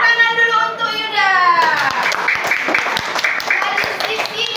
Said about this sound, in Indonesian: tepuk tangan dulu untuk Yuda